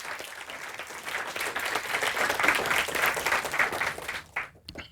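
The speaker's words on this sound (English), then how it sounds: "So please give a round of applause to the sponsors." A conference audience at the AdaCon Norway 2023 opening applauds the sponsors, sustained hall applause swelling and then fading out over several seconds.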